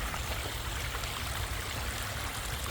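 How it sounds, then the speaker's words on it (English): Water pours steadily down a small DIY pondless waterfall stream built with an Aquabasin, making a continuous close rushing and splashing hiss with no voices. "our little waterfall stream made with the Aquabasin"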